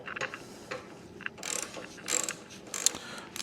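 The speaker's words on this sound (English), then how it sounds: "a number 5 Allen socket, and an extension so I can get in there and get this front fairing loose." A ratchet fitted with a number 5 Allen socket and an extension works a front fairing bolt loose on a 1994 Honda motorcycle. It gives short, quiet bursts of rapid clicking with brief pauses between strokes.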